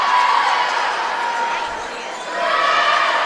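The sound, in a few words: crowd cheering at a swimming meet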